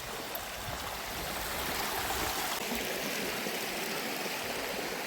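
A stream flows beside the path leading to a waterfall near a Konkan hill temple: continuous rushing, gurgling water, full and fairly near, with no one speaking.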